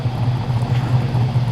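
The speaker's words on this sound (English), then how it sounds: "Check out this wild XWGT in that lovely blue with a lumpy idle." A blue Ford Falcon XW GT muscle car sits idling nearby with a low, steady rumbling throb at a car show.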